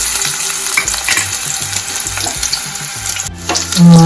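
Onions hitting hot oil for masala Maggi, a loud, continuous close sizzle with crackling bursts and occasional stirring clinks, no voices.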